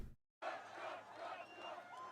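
A large crowd roars and cheers at a Trump rally, heard as a played-back recording after a brief cut of silence, a dense continuous wall of voices.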